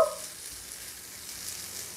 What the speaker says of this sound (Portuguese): vamos deixar o nosso bacon aqui, ó, dar uma leve fritadinha